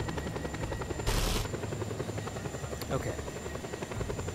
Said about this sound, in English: I'm loving this helicopter.